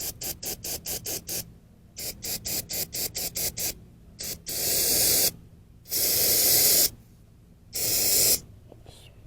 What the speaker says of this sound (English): go to town with brake cleaner here